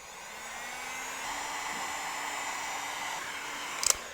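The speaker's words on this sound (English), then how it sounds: "So what we're going to do is we're going to reheat the foam." A heat gun blows a steady, loud airy whoosh while reheating foam for a costume arm, continuous throughout, with a couple of brief clicks near the end.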